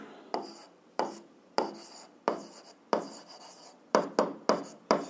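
A pen writes algebra equations on paper, a series of short scratchy strokes in separate bursts with quiet gaps between them, close and fairly soft.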